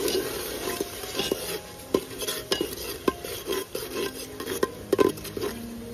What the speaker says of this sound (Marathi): आणि मस्त तेलामध्ये तरी सुद्धा फ्राय करू